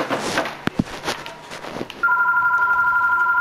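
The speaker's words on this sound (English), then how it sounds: "Stupid house phone. Shut up." A house phone rings with a steady electronic tone that starts partway through and continues loudly to the end, after a few thuds and shuffling sounds.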